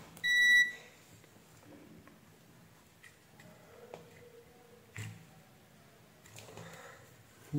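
Multimeter in diode test mode beeps while probing output-side components of a faulty switch-mode power supply: a short bright double beep at the start, then faint scattered ticks and clicks from probe contact in a quiet room.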